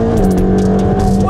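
A loud, close race car engine holds at high revs, a dense buzzing roar with short bursts of squealing tires layered on top.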